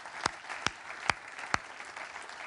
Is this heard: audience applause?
yes